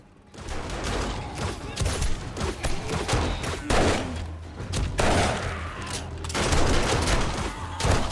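Rapid bursts of gunfire in the survival game 7 Days to Die, loud clustered shots and volleys repeating throughout, with dense crackling impacts between them.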